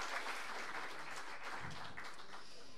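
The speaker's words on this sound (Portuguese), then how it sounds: "agora uma salva de palmas para vocês" A church audience applauds with sustained, dense clapping that holds steady throughout, with faint voices mixed in.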